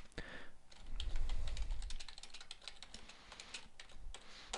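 Rapid typing on a computer keyboard, close and fairly quiet, a quick irregular stream of key clicks with brief pauses and no voices.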